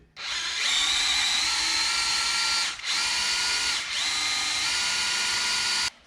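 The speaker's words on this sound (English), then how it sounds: "Stick this on my trusty drill. And remember, we gotta go counterclockwise." A cordless power drill spinning a distributor priming tool counterclockwise in a turbocharged Foxbody Mustang engine, a loud steady whine running for several seconds with two brief trigger releases before stopping.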